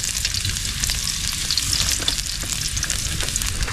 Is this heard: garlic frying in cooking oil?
yes